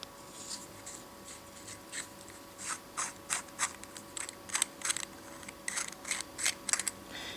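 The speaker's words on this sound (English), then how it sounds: "I think I have just to screw it off from the base." A Kangertech Subtank Mini vape tank being unscrewed from its base, giving a run of small, close, quiet ratcheting clicks and scrapes that grow denser toward the end.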